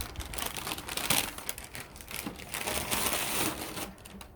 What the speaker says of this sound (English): Again, I apologize for the paper noise.